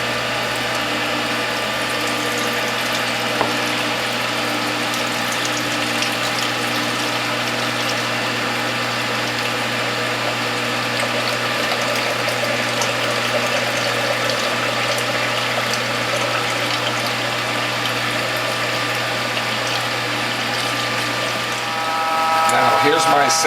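A juice press machine runs steadily while pressing kohlrabi, beet and carrot pulp in cloths, giving a constant mechanical drone with a whirring ratchet-like texture throughout and a rising surge at the very end.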